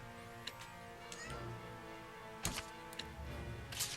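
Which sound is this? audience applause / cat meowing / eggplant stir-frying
cat meowing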